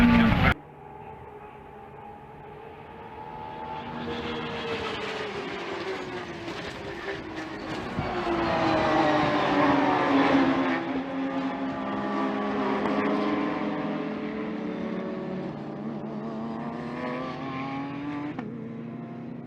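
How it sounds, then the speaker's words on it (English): Race cars in a motorsport event crash, with one car flipping up and over. Engines roar and whine loudly and shift in pitch, with a burst of loud noise midway and no speech. "Heavy contact with the 99 of Peters up and over."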